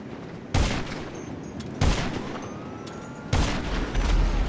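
Sniper fire in GTA 5: three loud, sharp rifle shots spaced about a second and a half apart, each with a booming crack and a short echoing tail over a steady background.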